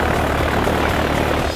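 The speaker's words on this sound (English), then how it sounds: "You are flying across the Pacific Ocean in a customized plane." A propeller plane engine drones steadily and loudly throughout, a continuous broadband roar of a customized aircraft in flight over the Pacific Ocean in 1937, with no voices.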